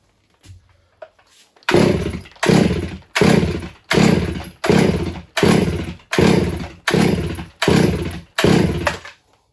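A Stihl MS461 chainsaw is pull-started again and again without catching, giving about ten loud, evenly spaced ripping pulls of the starter cord after a short quiet start.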